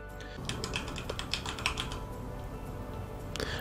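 A password is typed on a computer keyboard as a quick close run of clicking keystrokes, which thins out toward the end with a couple of final taps.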